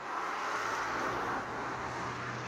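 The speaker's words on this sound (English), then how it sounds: "Please also excuse any background noise from vehicles passing," Vehicles pass outdoors near a hydroponic system, a steady faint broadband roadway hiss that swells and eases slightly, with no talk over it.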